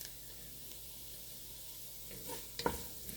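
Chopped garlic fries quietly in a pan with a soft, steady sizzle, then a few scraping stirs and a sharp clatter of the utensil near the end; faint overall, with no speech.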